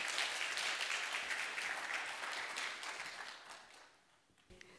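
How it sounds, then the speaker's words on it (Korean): A church congregation gives loud, dense applause to welcome a mother before an infant baptism, the clapping holding steady then thinning out toward the end, where a single sharp knock sounds. "나오실 때 큰 박수로 한번 맞이하면 좋겠습니다"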